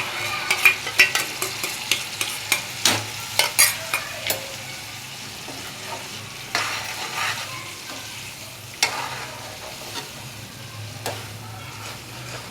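Onion, tomato and garlic gravy frying in a pan with garlic chutney for pav bhaji, heard as quick clinking spoon scrapes at first, then slower, sparser stirring strokes over a soft sizzle.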